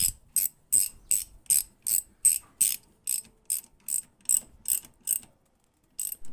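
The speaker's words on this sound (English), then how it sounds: "we can use our ratchet to tighten it up" Ratchet tightening a spark plug, a close, crisp series of about fifteen evenly spaced clicking strokes, then a pause and a final couple of clicks, with no talk.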